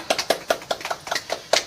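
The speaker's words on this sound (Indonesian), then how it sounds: "Tepuk tangan untuk kita semua." A small classroom group claps briefly after a lesson, about eight distinct, fairly sparse hand claps in an uneven rhythm, close and clear with no talk over them.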